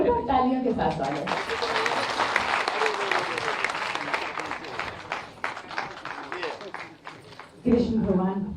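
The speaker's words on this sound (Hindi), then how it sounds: "जोरदार तालियों के साथ स्वागत।" Loud, sustained applause from a large audience welcoming a guest at a Chief Minister's public event in Aligarh, with a voice speaking over the start and end.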